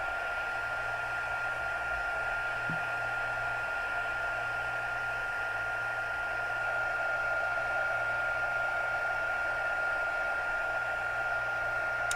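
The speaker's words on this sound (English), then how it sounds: "I'm just going to heat this. It still should be pretty hot, that just turning it on, it should melt fairly easily." A heat tool runs with a constant loud whooshing blower and a steady high whine while melting gold embossing powder for card making, unbroken for the whole stretch.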